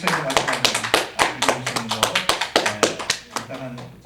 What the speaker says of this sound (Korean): 우리 큰 박수로 한번 감사의 마음을 드리기 바랍니다.